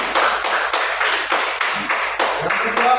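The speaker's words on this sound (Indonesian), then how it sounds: "Tepuk tangan buat jawaban kelompok C" A primary school class claps in unison, roughly ten rhythmic bursts of hands striking together, near and evenly spaced, with no talking.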